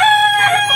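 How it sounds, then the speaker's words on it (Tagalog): A rooster crows loudly and close by among chickens being fed, one strained, harmonic call filling the short moment with no voices. "Grabe mga manok."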